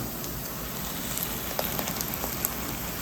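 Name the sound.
ground masala paste frying in a pan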